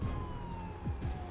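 Siren of an ambulance in the paramedic simulator game Ambulance Life, a steady tone sliding slowly over a continuous low engine rumble, with faint thuds throughout.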